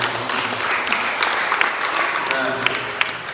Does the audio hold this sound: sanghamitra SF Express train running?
no